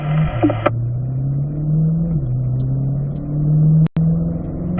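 Car engine accelerating and holding a steady drone as it works up through the gears to fourth, loud and continuous with a brief dropout near the end; no talk.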